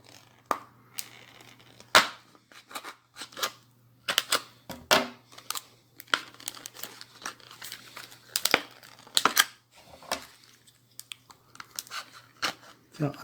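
Packaging for Grundig Bluetooth earbuds is opened by hand, giving scattered crinkles, tears and plastic clicks in irregular bursts up close, over a faint steady hum.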